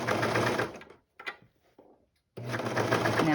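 A sewing machine with a cutting knife stitches tiny baby gown mitten cuffs, running in a loud close whirring burst, stopping for about a second and a half of small clicks and fabric handling, then whirring steadily again.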